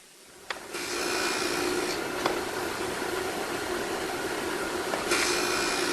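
A Darex V390 industrial drill sharpener runs while splitting the point of a drill bit, a steady whirring grind that starts after a click and carries sharp rasping contacts and scrapes, no speech.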